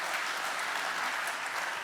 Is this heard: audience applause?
yes